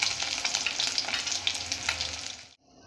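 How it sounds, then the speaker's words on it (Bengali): Fish fries in oil in a wok, close and loud, with dense crackling sizzle and spatter that stops abruptly just before the end. "মাছগুলো আমি ভালো করে ভেজে নিয়েছি, লাল লাল করে, দেখুন।"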